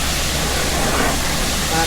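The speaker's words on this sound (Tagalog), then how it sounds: "Nag-fill lang po tayo ng tubig" Water pours steadily from a hose or pressure-washer supply into a bucket for washing a car, a continuous broadband rush that stays close and even throughout, with no talk over it.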